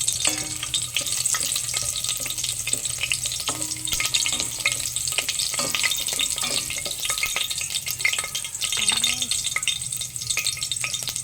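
Chopped onion sizzles steadily in oil in a hot pan, a loud continuous frying hiss broken by occasional scrapes and stirring clatter, with no talking.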